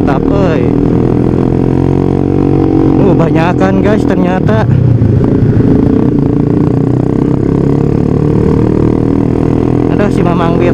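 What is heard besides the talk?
group of touring motorcycles riding past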